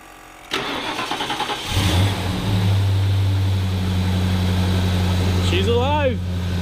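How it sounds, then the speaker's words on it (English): Lincoln Mark VII Fox Body V8 being cranked: a few rhythmic starter churns, then the engine catches and settles into a loud, steady idle close by, with a brief whirring rise near the end. "We're going to crank it up and hope for the best."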